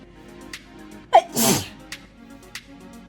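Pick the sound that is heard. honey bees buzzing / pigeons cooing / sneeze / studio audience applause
sneeze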